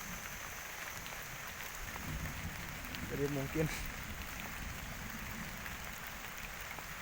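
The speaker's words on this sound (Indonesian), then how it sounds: "jadi suasananya tuh hujan badag sore" Heavy afternoon rain hisses steadily as a soft, even wash, while a person speaks quietly over it.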